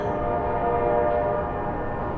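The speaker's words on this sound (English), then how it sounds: "Train's still awake." A distant train horn sounds as a sustained, steady tone that holds for about two seconds over low rumble, with no talking.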